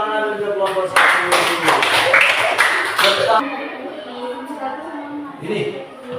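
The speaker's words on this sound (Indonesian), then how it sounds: "tepuk tangan untuk kelompok 1" Classroom applause for a student group during a lesson, a burst of clapping from many hands lasting a couple of seconds and then fading as a voice carries on talking.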